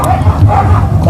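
A dog yips and barks at close range in a home during a birthday day, short whining bow-wow sounds over a low steady background hum.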